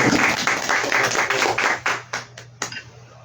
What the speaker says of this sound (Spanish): Te doy un aplauso, por favor, a Julio Barco